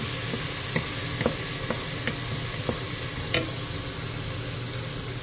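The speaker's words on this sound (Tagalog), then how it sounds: "So ngayon po ilalagay po natin yung ating chicken pan." Chicken hitting a hot pan with onion and garlic for mongo with chicken, giving a steady close sizzle broken by several light clinks and stirring taps.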